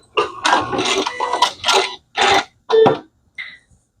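A sewing machine fitted with a walking foot stitches scrap fabric in several short, close bursts of rapid mechanical clatter, separated by brief pauses, the last burst very short.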